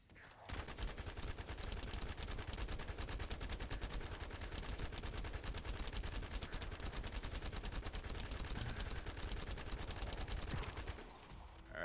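Turret gunfire in a video game plays as continuous rapid automatic shooting for the whole stretch, dense and steady, with no speech.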